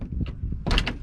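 Light aircraft door being unlocked and opened before a flight, a few soft clicks and rattles followed by a louder latch clunk and door movement near the end, close by.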